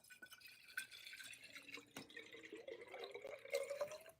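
Distilled water trickles and splashes into a glass lab flask, a faint, uneven pour with small drips and a slowly rising filling tone, with no talking over it.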